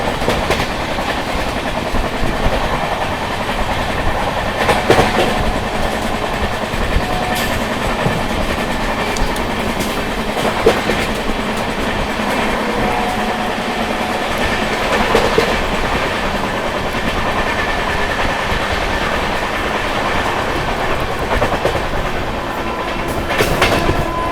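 The Mahabodhi Express 12398 rolls along the rails with a steady rumble and recurring clickety-clack wheel beats, heard from on board and alone.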